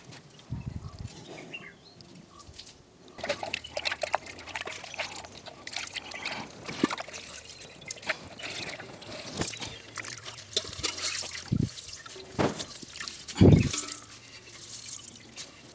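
Ragi milk dripping and trickling into a vessel as soaked ground finger millet is squeezed by hand, scattered soft drips and splashes close up, with a few louder plops.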